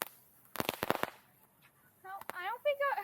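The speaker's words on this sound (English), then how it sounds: "I guess that's what I would expect from a small candle like this. Small firework." A small firework candle goes off outdoors with a rapid cluster of sharp, close crackling pops, followed by people talking after the bursts.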